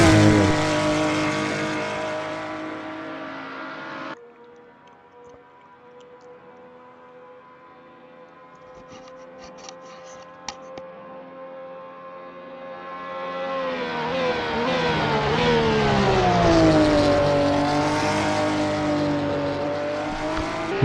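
Porsche 911 race car in a racing video game at Spa, its engine loud at first, dropping to a faint distant hum, then swelling back with rising and falling revs toward the end.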